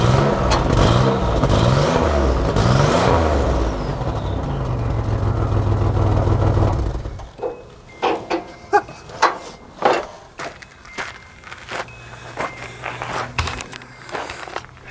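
A smoky old Datsun 300ZX Turbo with a faulty turbocharger revs hard, a loud sustained engine roar that drops away into sharp intermittent blips and clattering revs.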